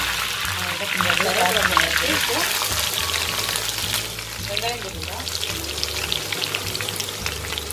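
Curry leaves sizzle and crackle in hot oil while shark puttu cooks, a steady close frying hiss that runs through the whole stretch under continuous talking.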